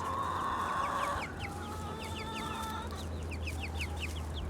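Free-range backyard chickens cluck and chatter close by in a series of short, repeated calls, with one longer squawk at the start over a low background hum.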